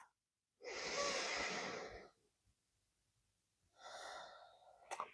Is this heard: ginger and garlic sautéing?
no